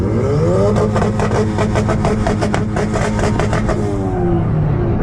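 A Toyota Supra race car with a 2-step launch limiter revs hard, its engine a loud, continuous buzzing drone with rapid stuttering pulses, close and unbroken for several seconds.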